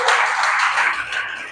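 A church congregation applauds together in a steady, dense wash of clapping that stays loud and close throughout, easing slightly toward the end.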